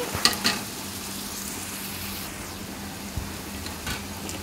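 Onions for an Andhra-style crab curry fry in a pan with a steady, close sizzle. A few clinks and scrapes of a ladle stirring sound early and near the end.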